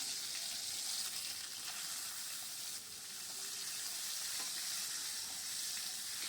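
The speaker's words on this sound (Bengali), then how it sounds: "তেলটা একটু গরম হয়ে গেলে আমি মাছের মাথাগুলো দিয়ে দিলাম" Fish heads fry in hot oil in a wok for a Bengali fish-head and cabbage dish, giving a steady, close, continuous sizzle with faint crackles and no talk.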